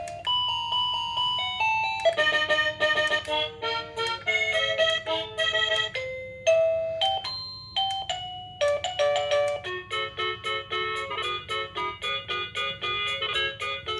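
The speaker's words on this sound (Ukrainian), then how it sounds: "Коротше, отакий дзвоник." Kerui T295 wireless doorbell, a unit with temperature and humidity sensors, plays its electronic chime melodies up close: a run of bright stepped beeping tones with short decays, changing tunes steadily over a low background hum, with no talking.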